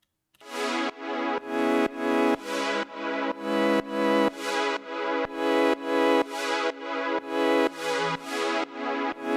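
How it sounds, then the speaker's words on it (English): A house-music chord progression is played on two different synth patches that take turns through an inverted LFO on volume. The chords come as steady, rhythmic pulses that swell in sequence, loud and alone with no talking. "It's playing the same progression with 2 different sounds, 2 different timbres, 2 different synth patches"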